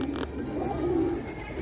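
A brief stretch of low, throaty cooing from racing pigeons in their loft, steady and close, with no voices over it.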